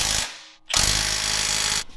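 A 1/2-inch impact wrench tries to spin a rusted bolt in two loud, close bursts. A short rattling burst is followed by a pause and then a longer sustained hammering run.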